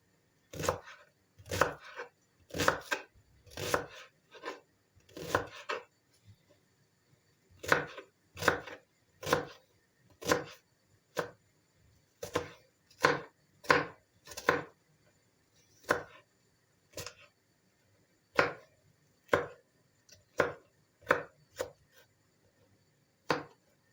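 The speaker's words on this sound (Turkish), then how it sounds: "ben saç kavurmasında soğanları biraz da ufak kıyma biraz iri olması gerekir" A knife chops onions steadily on a cutting board, sharp close knocks in quick bursts with brief pauses between runs, no talking.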